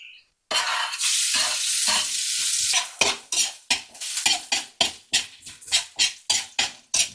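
A generous amount of garlic hits hot cooking oil with a sudden loud sizzle, then settles into steady frying broken by rhythmic stirring scrapes, about one per half second, close and clear with no talking.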